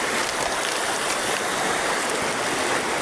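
A river rushing steadily, a loud, unbroken broadband wash of flowing water with no pauses, heard up close and alone.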